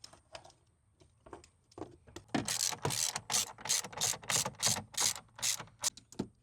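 A hand ratchet tightens a catch can bolt on a 2021 Ram Cummins, starting with a few sparse clicks and then building into a fast, close, sharp run of repeated ratcheting bursts with no talking.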